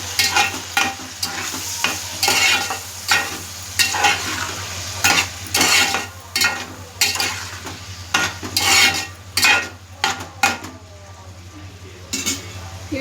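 Ivy gourd, onion and meal maker are stirred in a pan with salt and turmeric, giving repeated scraping, clinking spoon strokes over a steady low sizzle, close and continuous with no talk.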